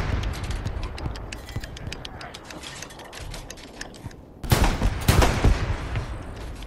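Artillery rounds in the video game Hell Let Loose thud and boom at a distance through a steady crackle of battlefield gunfire, with a heavier, louder cluster of impacts arriving near the end.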